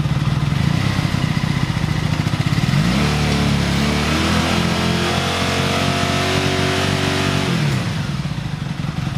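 A motorcycle engine idles close by during a charging system check, then revs up and holds a higher steady pitch for several seconds before dropping back to idle.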